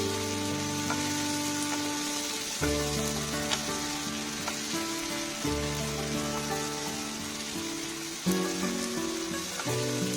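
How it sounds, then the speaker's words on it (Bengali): Masala with green chillies fries in a pan, a continuous loud sizzle broken by stirring bursts and sudden surges as ingredients hit the hot oil, with no talking. "খুব ভালো করে মশলাটাকে কষাতে হবে।"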